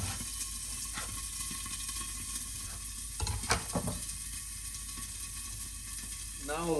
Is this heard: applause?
no